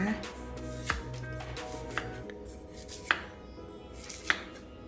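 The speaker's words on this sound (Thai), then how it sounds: "ตะไคร้นะคะเราจะหั่นแบบนี้นะคะ" A knife chops through lemongrass on a board in four sharp, spaced strikes, close and crisp over a low background hum.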